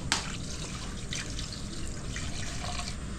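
Water trickles and splashes into a pan of marinated pork belly seasoned with ketchup and black pepper, a soft steady pour that starts with a small splash and runs for a few seconds.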